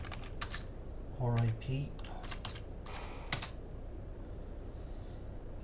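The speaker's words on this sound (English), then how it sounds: "It's going to be, so type in router" Router commands are typed on a computer keyboard in short bursts of crisp, close key clicks with pauses between, while someone speaks briefly over them.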